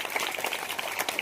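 School students at a Zilla Parishad Marathi school perform a scout clap, a dense burst of many hands clapping together with a crowd of voices mixed in, loud and close.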